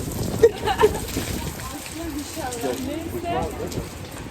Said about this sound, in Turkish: Hala yağıyor. Yağıyor.